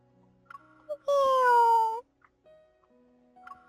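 A cat meows once in the game Love & DeepSpace, a single clear drawn-out mew lasting about a second, near and distinct between quiet stretches with soft small sounds around it.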